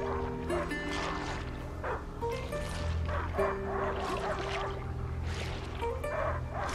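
A dog barks and yips repeatedly in the video game A Plague Tale: Innocence, over a steady, droning musical background, with short sharp calls spread across the whole stretch.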